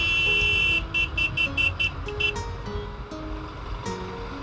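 Busy road traffic surrounds a Royal Enfield Himalayan BS6 motorcycle. A quick run of short horn toots sounds close by over a rumbling bed of engines and passing vehicles.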